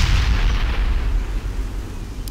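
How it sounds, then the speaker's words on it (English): Incoming artillery fire lands in the real-time strategy game World in Conflict: Soviet Assault, a loud, heavy boom with a long rolling rumble that slowly fades. "Incoming fire!"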